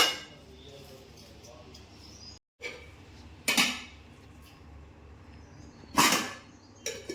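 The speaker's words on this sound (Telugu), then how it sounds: "మూత పెట్టుకుందాం." A lid is set on a cooking pot, giving two sharp metallic clanks a few seconds apart with softer kitchen clatter around them, in an otherwise quiet room.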